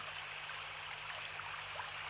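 A cartoon stream flows steadily, with an even rushing and trickling of water that continues alone and unbroken throughout.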